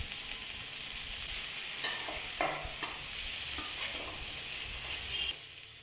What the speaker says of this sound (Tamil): இப்போ வேணால் நம்ம கொஞ்சமாக ஆயில் சேர்த்து அப்படியே வறுத்துக்கலாம்